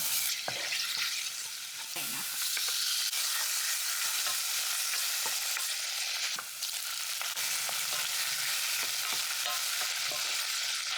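Garlic stir-frying in a pan for mixed fried rice, a steady loud sizzle with scraping spatula strokes and clinks running throughout, no talking.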